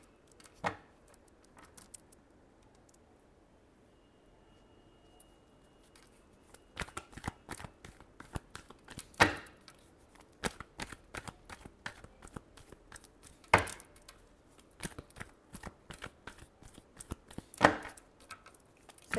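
Tarot cards being shuffled, sparse soft riffles at first, then sharper card flicks and snaps that come in bursts, close and fairly quiet, with no voices.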